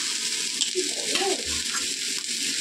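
Black cumin seeds sizzling in hot oil for a hilsa fish curry: a steady, bright frying hiss that fills the pan, with no talking.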